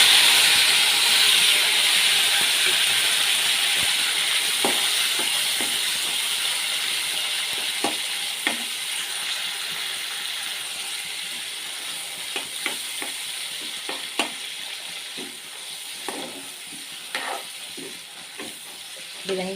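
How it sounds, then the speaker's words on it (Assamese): Tomatoes frying in a pan with cumin for an aloo-tomato curry at home, a steady loud sizzle with occasional clicks and scrapes of stirring that gradually softens. "বিলাহীখিনি অকণমান ভাজি ল'ম মই"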